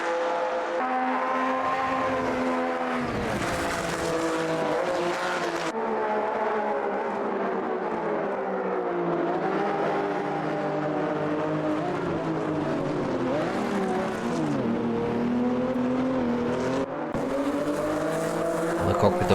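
Several classic race cars roar at full throttle during a championship finale, engines rising and falling in pitch through gear changes and corners, loud and continuous with brief tire squeal, under faint commentary.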